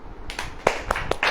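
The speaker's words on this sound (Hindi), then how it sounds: "ताली बजाओ" Audience clapping hands at a Hindi-language church sermon, a few scattered sharp claps building into brief applause, moderately close, with no talk over it.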